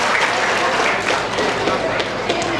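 A live audience at a mimicry show claps loudly and continuously, a dense wash of applause that holds steady throughout.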